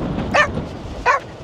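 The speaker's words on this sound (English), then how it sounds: "What are you barking for?" A dog on a Hebridean beach on the Isle of Harris gives two short, sharp barks about half a second apart, fairly close against light outdoor background noise.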